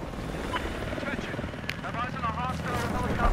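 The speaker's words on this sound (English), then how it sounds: "Please, helicopter." In the video game Battlefield 4, a helicopter drones overhead with a continuous rotor rumble beneath a voice talking throughout.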